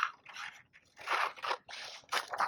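Scissors cutting paper pictures for a mixed media craft project, a series of close, quiet crisp snips and crunches in short irregular bursts with brief pauses between cuts.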